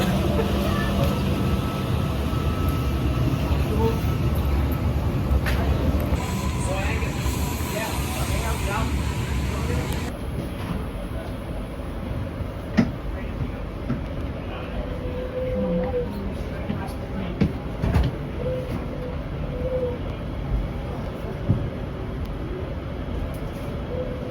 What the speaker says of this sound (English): I'm going to get back on the train.